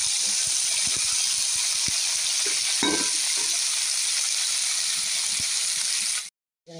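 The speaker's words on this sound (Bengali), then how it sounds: "ডাঁটা আর একটু করে রেখেছিলাম, সেটাকে দিয়ে দেবো। একটু হালকা ভেজে নেব।" Cut drumstick stalks fry lightly in oil for a vegetable curry, a steady close sizzle with occasional stirring knocks and scrapes, ending abruptly in silence, without speech.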